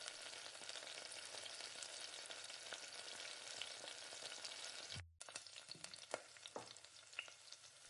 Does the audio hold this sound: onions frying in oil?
yes